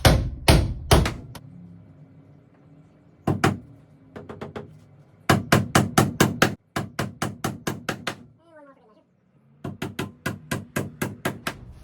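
A hammer drives a wooden blocking plate into place in line with the top plates for ceiling joists, landing bursts of sharp, ringing blows in quick steady series, separated by short pauses and a brief scrape.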